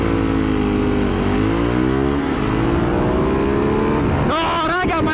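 A TM 530 motorcycle launches hard from a standstill, its engine note climbing steadily and loud through the gears for several seconds before a sharp burst of higher revving at the end.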